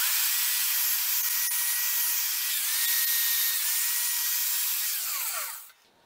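Steady high-pitched whirring of a power sander smoothing a turned piece of cast metal made from pot scrubbers runs continuously, close and loud, then cuts off abruptly near the end.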